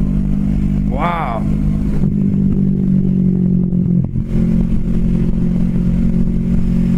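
A Kawasaki Vulcan S 650 Cafe ABS cruiser is ridden and its engine gives a loud, steady drone close by, under a voice. A brief rising rev comes early, then a short clattering bump, and the engine hum carries on.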